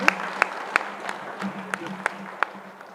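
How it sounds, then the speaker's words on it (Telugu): Scattered handclaps from a small group at a one-day workshop, about eight sharp claps at uneven intervals, fairly faint over a steady low hum with no talking. "ఒకసారి గట్టిగా చప్పట్లు కొట్టుకున్నాం."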